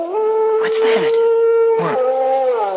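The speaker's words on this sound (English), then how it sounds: "Oh, that was just a dog" A long, steady dog howl drifts in from outside in an old radio drama sound effect, holding one pitch for nearly three seconds while two voices briefly speak over it.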